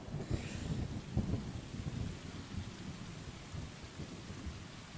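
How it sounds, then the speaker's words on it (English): Thunderstorm with rain in the video game Stray, low rumbling thunder rolling under a steady wash of falling rain, fairly faint and without voices. "On a dark, stormy night,"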